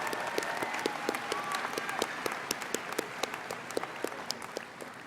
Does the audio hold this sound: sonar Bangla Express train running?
no